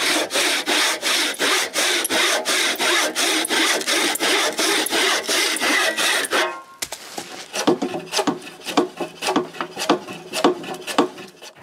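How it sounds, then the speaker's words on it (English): Hand saw cutting a wedge in wood for a cottage dock, strong even back-and-forth strokes for over six seconds, then quicker, lighter, uneven strokes after a brief pause. "I begin by cutting a wedge. But it's not really easy. This saw is not made for ripping wood."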